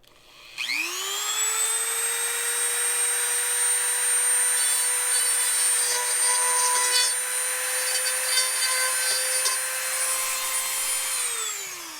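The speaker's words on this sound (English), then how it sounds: "So I get to plug my Dremel in again." A Dremel rotary tool spins up and drills a hole in a Millennium Falcon model part, its high whine rising quickly, holding steady for about ten seconds with slight strain changes, then winding down, close and clear.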